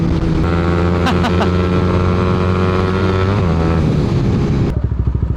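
A carbureted Suzuki Raider motorcycle engine revs loudly and close with a buzzing, harmonic tone, its pitch sliding down partway through before it settles into a rapid, lumpy idle putter at the end.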